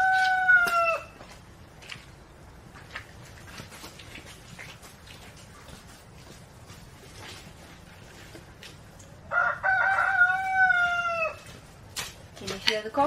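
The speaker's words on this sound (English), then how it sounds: "The cockerel." A cockerel crows twice among a flock of chickens, loud and near, the second crow a few seconds later, with soft clucks and outdoor ambience in between.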